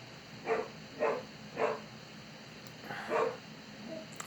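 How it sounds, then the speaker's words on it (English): A pet dog barks four times in short bursts at a steady pace, moderately close in a quiet indoor room, with a brief pause before the last bark. "I gotta shut my dog up because he just won't shut up"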